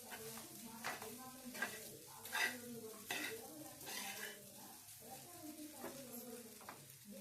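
Egg rice with spices and turmeric is stirred in a pan, with a spoon scraping and clinking against metal in an irregular rhythm over a soft sizzle, close and moderately loud.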